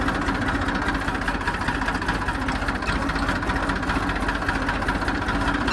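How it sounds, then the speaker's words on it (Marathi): A farm tractor running on a field track rumbles loudly and evenly with a rapid rhythmic knock, heard up close and alone without talk. "ट्रॅक्टर घेऊन चाललो आपण"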